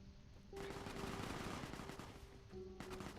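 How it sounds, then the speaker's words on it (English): Gunfire in Fallout: New Vegas comes as a sustained, fairly faint burst of rapid shots lasting about two seconds, with a faint tone before and after. "No, that is gunfire."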